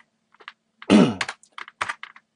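Keystrokes on a computer keyboard while tabbing and entering list items, a scattered run of near clicks with one heavier thump, alone with no talk.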